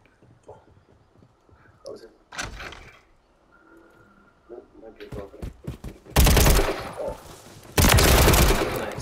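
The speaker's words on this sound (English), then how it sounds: "Someone shooting you." Gunfire in the video game Call of Duty MW3: scattered single shots, then loud sustained automatic bursts near the end, with players talking between and under the shooting.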